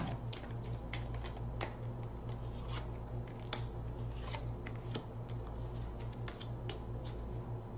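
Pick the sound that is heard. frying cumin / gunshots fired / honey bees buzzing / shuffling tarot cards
shuffling tarot cards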